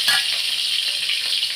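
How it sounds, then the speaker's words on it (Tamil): Sambar onions sizzle in hot oil that was used to fry cauliflower, a steady close and bright crackling hiss throughout. "முதல்ல வெங்காயத்தை போட்டுக்கிறேன். சாம்பார் வெங்காயம் ஒரு 4 போட்டுக்கிறேன்."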